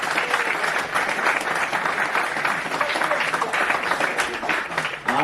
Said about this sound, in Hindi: तो एक बार जोर से तालियां